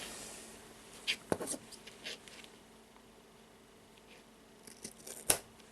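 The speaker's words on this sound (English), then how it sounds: "Now I will grab the scissors" A few sharp, quick snips of scissors cutting yarn, isolated clicks spread across a quiet background with no talking.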